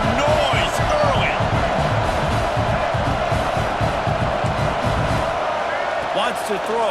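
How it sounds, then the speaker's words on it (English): Stadium crowd in the College Football 26 video game roaring steadily with loud, dense noise and rhythmic thumping, a constant wall of sound under the game's presentation. "This crowd bringing the energy and noise early."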